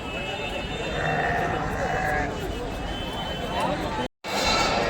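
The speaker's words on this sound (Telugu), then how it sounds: "గొర్రెలు పొట్టేళ్ళు." Sheep and rams bleat amid the constant crowd din of a large livestock market shed, with overlapping animal calls buried in a dense noisy background and a brief cut near the end.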